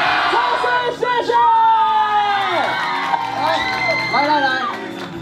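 A loud crowd at a Chinese Professional Baseball League pregame show, Uni-Lions versus Fubon Guardians at Xinzhuang Baseball Stadium, cheers and chants without pause, with many voices shouting and whooping together over an amplified voice.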